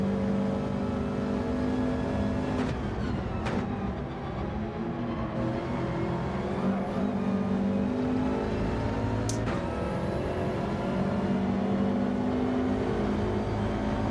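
Subaru WRX race car engine in Gran Turismo 7, a sustained engine drone with shifting pitch as the car accelerates and shifts gears, steady and close, with no talk.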